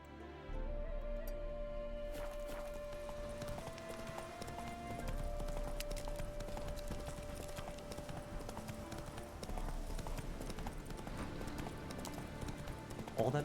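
Roach, a horse in a video game, gallops with a steady, rapid clip-clop of hooves that runs throughout, set under sustained game music with no one talking.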